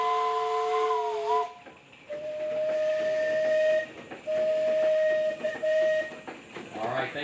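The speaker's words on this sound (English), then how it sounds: "but let's hear some whistles." Steam tractor whistles blow in long, steady tones at a steam show, one shrill blast followed by a lower sustained whistle repeated several times, with hissing steam and faint crowd noise.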